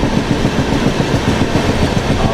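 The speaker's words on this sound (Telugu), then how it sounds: "ఇక్కడైతే ఇండియాస్ లాంగెస్ట్ ట్రైన్ అయితే ఉంది, వివేక్ ఎక్స్ప్రెస్ ట్రైన్, దిబ్రుగఢ్ కన్యాకుమారి" The Vivek Express, a long-distance Dibrugarh–Kanyakumari train, rumbles steadily and loudly nearby with a dense rolling drone and soft rhythmic clatter.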